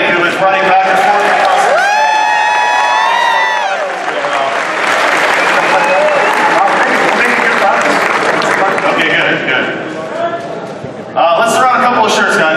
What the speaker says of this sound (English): How about a round of applause for Maury, who is running back and forth.